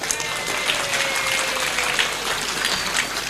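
An audience at an Indonesian religious lecture breaks into dense, sustained clapping that fills the whole stretch at a steady loud level, with no voices standing out.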